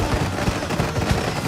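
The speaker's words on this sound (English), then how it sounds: "That's where the fireworks are." Fireworks going off in the theme park building game Planet Coaster 2 make a loud, dense barrage of rapid crackling pops and booms that pile into one continuous roar.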